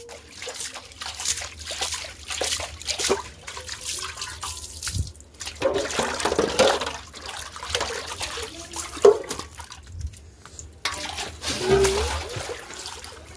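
Water runs from an outdoor tap at a rural home, trickling and splashing unevenly nearby, with brief pauses and louder gushes between quieter dribbles.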